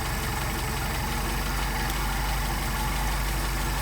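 A car engine fitted with Solex carburetors idles steadily at about 700 RPM, a continuous low rumble heard close up with no pauses and no talking.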